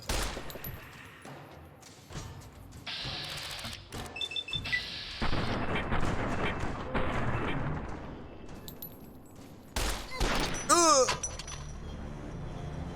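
Pistol gunfire in the Fallout: New Vegas video game, heard as repeated sharp shots and bursts mixed with game effects and impacts over about thirteen seconds.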